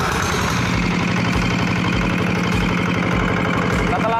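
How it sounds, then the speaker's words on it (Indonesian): A diesel tractor engine running at a steady idle, a loud continuous knocking chug with even rhythm close by and no talk over it. "Setelah mesin hidup"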